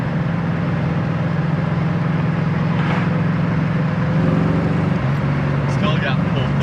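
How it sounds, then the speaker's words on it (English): Engine of a 1970 Ford Mustang Mach 1 dropping from fourth to third gear, a steady low drone whose pitch steps as the gear changes, heard from inside the car with talk over it. "We're going to downshift from 4th to 3rd. Right down into 3rd gear there."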